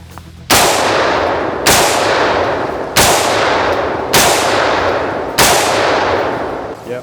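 Five loud, sharp AR-15 rifle shots ring out on an outdoor training range, evenly spaced about a second apart, each with a long decaying echo and no talking.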